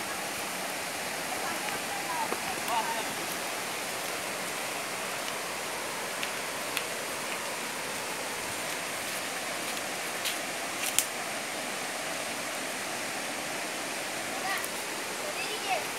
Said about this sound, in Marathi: हे झुळझुळणारं पाणी.